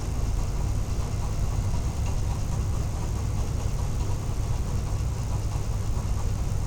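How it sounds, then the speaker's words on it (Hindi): An overlock machine locks the edge of a fabric strip for a party-wear suit with a continuous loud, even mechanical whir and rapid rattle that holds steady throughout. "अब मीडियम साइड मार्जिन लेते हुए इसको भी लॉक कर लेंगे"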